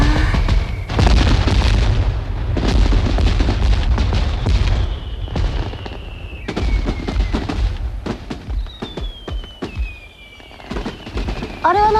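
A fireworks display with a rapid series of loud booms and crackling bursts, thinning out toward the end. Several rising whistles streak between the blasts, with no one talking.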